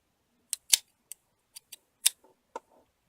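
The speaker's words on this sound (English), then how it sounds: "I'm going to go ahead and cut this yarn here." Scissors trimming yarn while making a pom-pom: about seven crisp, close snips spaced irregularly over three seconds, with quiet pauses between them.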